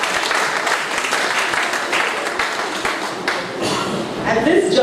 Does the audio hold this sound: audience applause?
yes